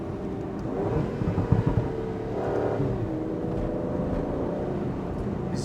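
An Aston Martin Vantage V12 Roadster's engine pulls hard under throttle, rising in pitch and then settling into a strong, steady roar, close and loud with no talk.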